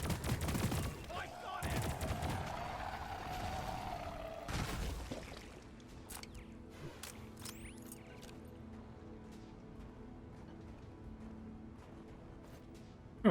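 Rapid explosive gunfire from the Zhukov pistols with explosive reload in Deep Rock Galactic, sounding as a dense burst of cracking blasts over the first five seconds, then fading into a lower, muffled rumble of distant booms.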